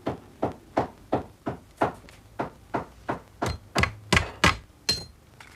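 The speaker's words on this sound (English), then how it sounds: "this is fixed first with a tack to the high pommel point at the front of the saddle" A tack is hammered into flax linen at the front pommel of a saddle with about a dozen sharp, evenly spaced taps, close and clear, growing slightly louder toward the end.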